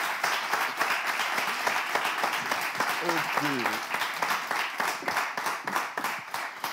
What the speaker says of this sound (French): On va applaudir jusqu'à ce qu'il ne s'asseye